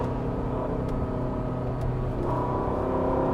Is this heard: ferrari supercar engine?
yes